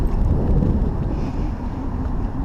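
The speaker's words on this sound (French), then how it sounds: "le vent il est de face et c'est très compliqué" Strong wind buffets the microphone outdoors on a winter fishing outing with a 7'2" spinning rod, a loud, steady low rumble filling the whole stretch with no talk.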